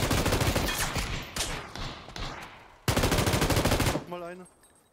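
Loud, close automatic gunfire in PUBG comes in two sustained rapid bursts separated by a short pause, ending in a ringing tail.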